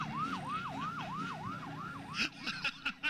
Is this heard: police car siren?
yes